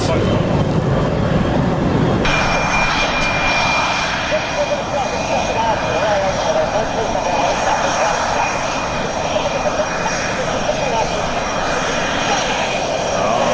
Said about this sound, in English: It is the fantastic display of the Spanish F-18 Hornet.